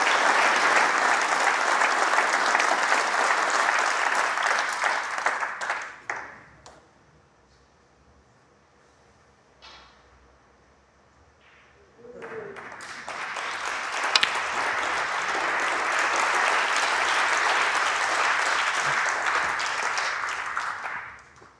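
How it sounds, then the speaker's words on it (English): Applause from a snooker audience at the British Open, loud bursts of clapping at the start and again in the second half, separated by a quiet stretch with a few faint knocks. "The applause you can hear from table 2"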